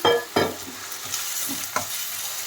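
Soaked moong dal fries with onions in a pan, giving a continuous close sizzle with two or three sharp spatula knocks and scrapes near the start and one more later, and no one talking.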